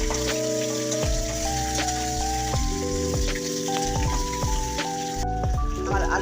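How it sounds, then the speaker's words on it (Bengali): Potatoes frying in oil in a wok give a steady sizzle and crackle, with a tonal musical backing running over them throughout. "আলুগুলো এবার আমি লাল লাল করে ভেজে নিয়েছি"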